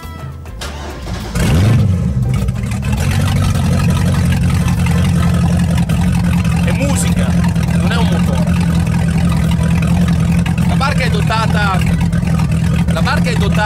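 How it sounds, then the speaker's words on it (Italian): The engine of a Mostes Venere 23.4 speedboat cranks briefly and catches, then settles into a loud, steady idle rumble close by, with someone talking over it. "Andiamo ad accendere ora questo fantastico motore."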